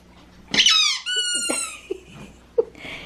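A dog chomps on a squeaky pumpkin toy, producing a loud, close squeal followed by a few shorter squeaks and chewing sounds, with no talking.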